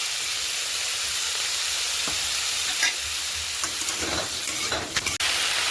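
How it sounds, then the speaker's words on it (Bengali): Chopped vegetables frying with garlic, chilli, salt and turmeric in a frying pan: a loud, continuous close sizzle with occasional stirring scrapes and clicks, no speech. "পুরো সবজিটাকে ঝাল লবণ হলুদ দিয়ে ভালো করে ভেজে নিয়েছি"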